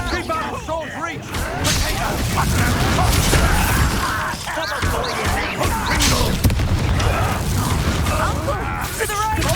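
Bombarda spell blasts in the Hogwarts Legacy game: several loud booming bursts and crashes amid busy combat effects, with voices speaking over the action.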